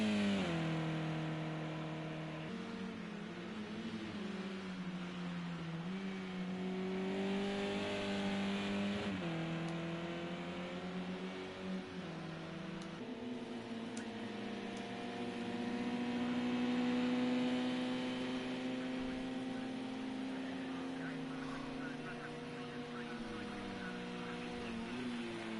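Several race car engines from a sim-racing league at Brands Hatch and Silverstone rev hard, their pitch climbing and dropping through gear changes in a loud, continuous, overlapping drone with no pauses.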